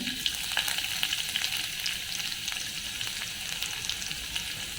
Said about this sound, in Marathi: आता हे तेल चांगलं गरम झालं आहे मी याच्यात घालते मोहरी ठेचलेला लसूण